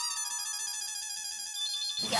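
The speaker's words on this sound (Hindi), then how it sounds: "क्या होगा? फोन आया।" An electronic phone ringtone chimes steadily in a bright, layered tone, then cuts off abruptly at the end with a burst of noise.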